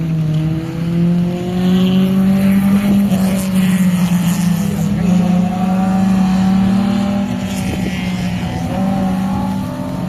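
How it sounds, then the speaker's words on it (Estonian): Drift race car engines roar loudly and continuously during a motorsport drifting event, with steady high revving and shifting engine pitch as cars slide through the course, close and dominant throughout. "Tarmo Tamm driftimas siis 5. positsioonil selle sõidu lõpupoole."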